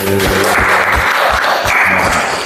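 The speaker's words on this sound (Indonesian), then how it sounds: "kasih aplaus dulu" A classroom full of students claps together in a steady, dense burst of applause lasting a couple of seconds, close and loud throughout.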